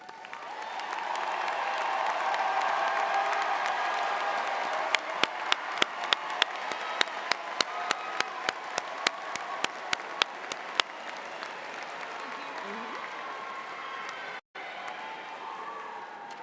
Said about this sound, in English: Will the candidates graduating with distinction please raise or wave your hand so we may applaud your academic excellence?